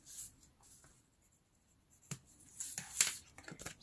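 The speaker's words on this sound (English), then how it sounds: "I'm gonna place it on my cardstock and I'm gonna draw all around." A pencil scratches around a template onto cardstock, faint and close, with soft sporadic strokes that grow busier and slightly louder toward the end, with no talking.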